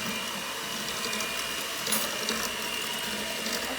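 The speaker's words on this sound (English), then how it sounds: "use the mixer just to make sure that it gets really well mixed" Electric mixer running on low through brownie batter, a steady close mechanical whir with faint rattling, even in level and continuous with no talk.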